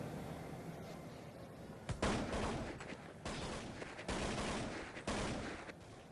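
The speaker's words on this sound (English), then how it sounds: "fire off shot after shot, seeing if they can get a pick onto any of those MYM players" Gunfire in Counter-Strike 1.6 during a professional tournament match, a series of loud sharp shots and short bursts, roughly five distinct volleys spaced about a second apart over faint background noise.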